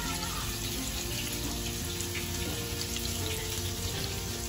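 Bay leaves sizzling in hot oil in a pan for a Bengali prawn curry, a steady soft hiss and crackle running evenly throughout at moderate level.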